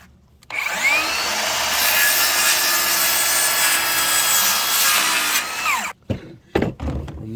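Steady, loud back-and-forth sawing through wood lasting several seconds, then stopping, followed by a few short knocks and rustles.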